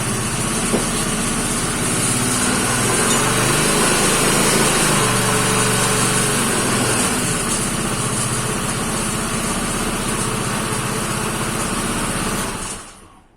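A freshly rebuilt CG motorcycle engine with a working oil pump runs steadily, a loud continuous buzzing drone that holds for about twelve seconds before cutting off at the end.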